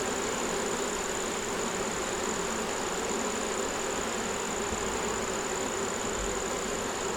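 Honeybees swarm around a hive frame holding brood, nectar and pollen, producing a steady dense buzz that stays close and constant throughout, with no voices.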